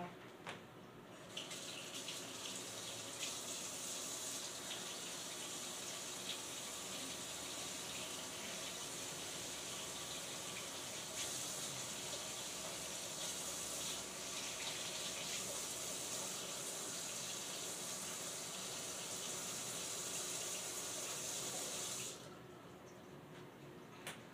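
A kitchen tap runs hot water into a measuring cup in a steady, even rush that holds for around twenty seconds before cutting off, with no talking over it.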